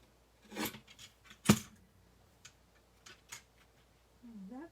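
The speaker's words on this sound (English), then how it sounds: "I'll bring in that little mini paper trimmer again." A small mini paper trimmer slices through cardstock for a stamping craft project, giving a few quiet, sharp clicks and one crisp cutting snap close by in an otherwise quiet room.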